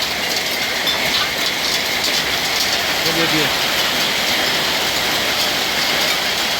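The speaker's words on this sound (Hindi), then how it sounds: "जितनी बारिश हो रही है उतना ही बर्फ़ गिर रहे हैं।" Heavy unseasonal rain mixed with large falling hailstones pours down outside an ashram, a loud, unbroken roaring hiss throughout. A voice speaks briefly in the middle.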